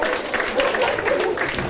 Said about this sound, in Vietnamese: Vỗ tay đi.